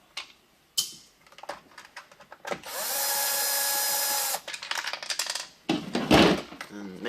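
Power drill spinning screws out of a bypass valve sensor: short bursts, then a sustained whine of about two seconds, followed by clicks and rattles of tool handling.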